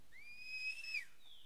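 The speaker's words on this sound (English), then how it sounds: "she stops when I whistle" A hunter's whistle sounds during an elk hunt in The Hunter on PC, a short, clear two-tone whistle rising and holding for about a second over quiet background.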